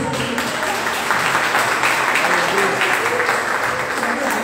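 Church congregation at a women's worship service applauding, a dense, steady wash of many hands clapping at close range for several seconds.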